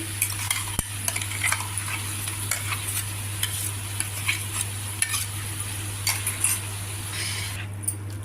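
A tomato and mustard paste curry with broad beans and potato cooks in a pan, sizzling steadily up close, with frequent light clinks and scrapes of a spoon against the metal.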